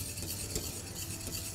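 Cream pâtissière stirred in a pot on the stove, a soft, close scraping and swishing that comes in short repeated strokes, with no one speaking.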